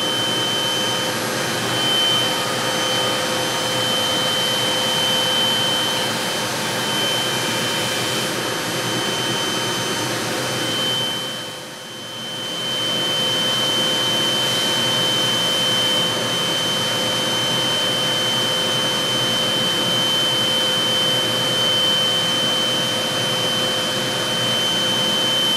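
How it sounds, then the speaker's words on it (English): Steady, loud whirring hum of a server chassis holding 45 hard drives being spun up one by one, a continuous fan-like drone with a constant high whine and a brief dip midway. "So each drive right now is being individually spun up with the 45 hard drives."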